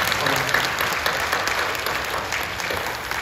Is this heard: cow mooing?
no